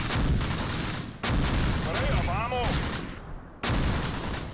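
Dense gunfire and mortar blasts from a WWII tactical battle game set at Tourville in June 1944, loud continuous bursts in three long runs broken by short gaps, with a faint whistling sweep in the middle.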